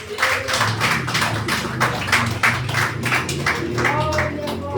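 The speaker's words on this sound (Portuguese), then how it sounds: "E as palmas louvam ao Senhor Jesus" A church congregation claps hands in praise during a worship service, steady rhythmic clapping from many people over music, dense and fairly loud throughout.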